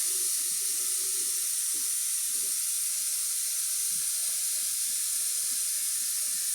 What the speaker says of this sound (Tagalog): So magpapakulo muna ako ng tubig dito para hindi matagal sa gas.